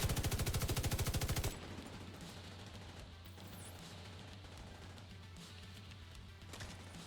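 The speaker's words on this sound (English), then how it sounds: "Some shooting." Video game gunfire opens with a loud, fast machine-gun burst of evenly spaced shots, then gives way to a dense, rumbling wash of distant shooting and crashes.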